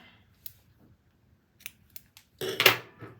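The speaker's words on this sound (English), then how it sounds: "all I just need to do is cut off the yarn" Scissors snip through crochet yarn, several soft clicks of the blades, then one louder, fuller cut toward the end in a quiet room.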